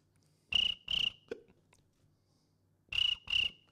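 A voice mimics crickets with two pairs of short, shrill chirps separated by a pause, close and clear, with a brief soft click between.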